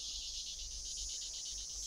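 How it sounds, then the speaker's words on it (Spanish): A steady, close chorus of cicadas in a Minecraft modded game, a high buzzing trill pulsing in a quick even rhythm without a break over a low background hum. "Las cigarras me están tocando las pelotas"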